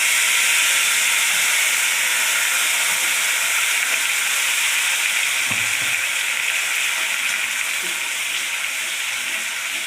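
A spice mix goes into hot oil already holding dried chilli, bay leaf and cumin, giving a loud, continuous sizzle and hiss from close by with a faint stirring scrape and no talk.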